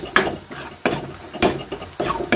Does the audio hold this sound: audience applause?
no